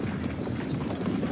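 Galloping horses pound out a fast, continuous drumming of hooves, loud and close, in an animated cartoon western.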